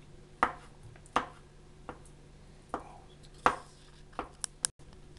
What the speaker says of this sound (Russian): Для вкуса можно сварить вкрутую два свежих яйца, которые также мелко пошинковать и добавить в этот салат.